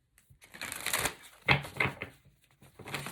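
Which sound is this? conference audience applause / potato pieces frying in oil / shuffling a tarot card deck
shuffling a tarot card deck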